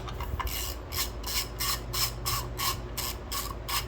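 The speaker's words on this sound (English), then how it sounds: "Now you can just use your ratchet like this," A hand ratchet loosening the fill plug on a Cub Cadet, a close series of regular clicking back-and-forth strokes over a low steady background hum.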